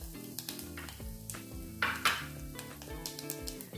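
Cumin seeds and asafoetida hit hot oil in a pan, giving a soft sizzle broken by clinks and scrapes of a spoon against the pot, close and fairly quiet.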